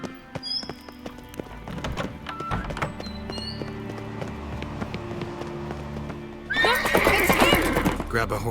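A horse in The Witcher 3 neighs several times over game voices and ambience, then breaks into loud, rhythmic galloping hoofbeats for the final seconds.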